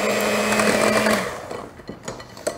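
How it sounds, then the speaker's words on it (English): Flour and pie ingredients for a cinnamon pie being mixed in a bowl with an electric mixer, a steady loud whir for just over a second that cuts off, followed by a few faint knocks. "Then I'll mix these really well together."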